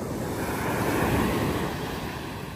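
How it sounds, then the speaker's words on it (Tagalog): Rough, high sea waves washing onto a shore in Mindoro just after rain, a steady broadband roar of surf with some wind across the microphone, no voices. "medyo mataas ang alon."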